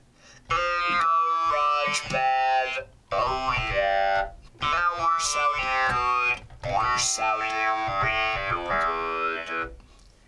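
A talk box played from a MIDI keyboard in GarageBand, harmonic set to the 2 o'clock position with overdrive, delay and reverb off, gives loud, vowel-shaped synth phrases in four bursts with brief gaps between them.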